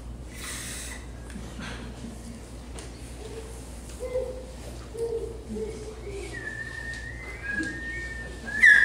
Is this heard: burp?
no